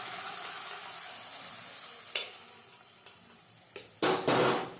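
Boiled pigeon pea beans (tuver) go into a pan of frying spices for a Gujarati recipe, a faint steady sizzle followed by a few louder scraping stirs and clatters near the end.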